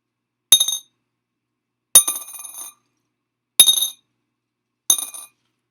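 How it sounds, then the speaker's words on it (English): Four pennies dropped one at a time into a piggy bank, each a sharp metallic clink with a brief rattle, evenly spaced apart with silence between. "Now I'm going to take some and I'm going to put them inside of my piggy bank."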